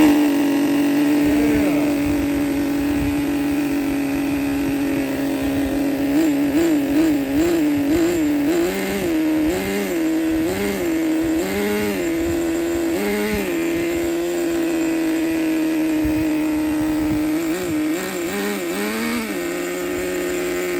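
A used Traxxas Nitro Stampede .15 RC car's small nitro engine runs loud and close, a buzzing idle broken by repeated quick throttle revs that rise and fall in pitch before settling back to idle.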